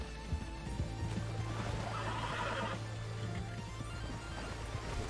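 A horse whinnies in the Red Dead Online video game, a drawn-out neigh rising over a murky in-game background with faint hoof clops, moderately loud and with no voices.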